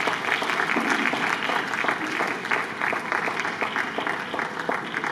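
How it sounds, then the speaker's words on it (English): An audience at a plenary session of a general assembly conference breaks into sustained, even applause, a dense patter of many hands clapping that carries on for several seconds without any speech. "Please, a round of applause."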